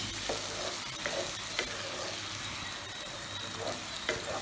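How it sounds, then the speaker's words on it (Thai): Chili fish sauce dry-fries in a pan for a Thai pla rad prik dish, a steady sizzle under repeated scraping stirs and clinks from a utensil, close and continuous with no talk. "มาคั่วครับคั่วสักหน่อย"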